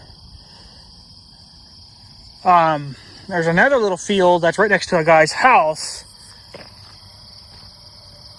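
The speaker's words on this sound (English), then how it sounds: "It sounds like a turbocharger, but it's crickets or something." Steady high-pitched cricket chirping runs faintly through the night air near a hay field, continuing beneath a man's speech in the middle of the clip.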